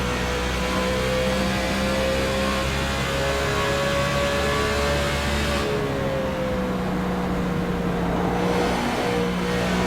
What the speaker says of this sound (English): Here are the tires fighting for grip out of turn number 4.